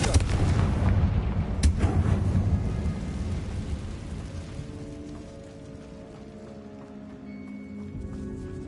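A Confringo fire spell blasts in Hogwarts Legacy with a heavy booming burst that rumbles and then fades over several seconds, followed by a brief sharp crack and a lingering low roar of game ambience.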